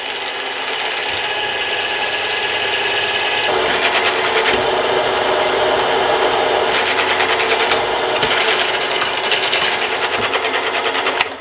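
Drill bit boring holes sized for an M8 tap into a part for a Warco round column mill, a steady continuous mechanical whir and grind that runs unbroken throughout and grows slightly louder partway in, with no talk.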